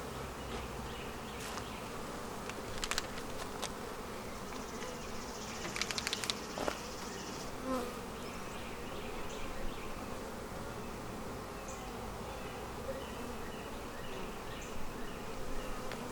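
Honeybees buzz steadily throughout a beehive inspection in a bee barn, a dense continuous drone with a few louder passes of individual bees flying close by.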